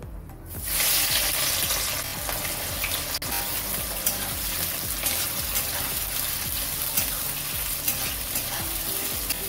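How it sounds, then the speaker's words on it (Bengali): Chopped onions, a dried red chili and whole garam masala fry in hot oil for a chicken kosha curry, producing a loud, constant crackling sizzle with occasional stirring clicks, close up and without voices. "এখানে দিয়ে দেবো একটা শুকনো লঙ্কা ও কিছু গোটা গরম মশলা ফোড়ন, আর দিয়ে দেবো পেঁয়াজ কুচি।"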